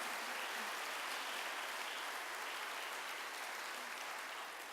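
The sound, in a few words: applause for race officials at prize giving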